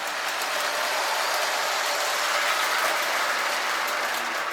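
A K-Line No. K-1110 Santa's Yuletide Express, a 3-rail O-gauge model train, runs along its track with a steady, even electric motor whir and wheel rumble, close and constant, with no voices.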